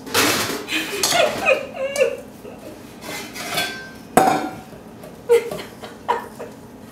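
Dishes being washed by hand in a home kitchen during sofrito making: close, irregular clinks and clatters of plates and utensils in sharp bursts, with quieter rinsing between them.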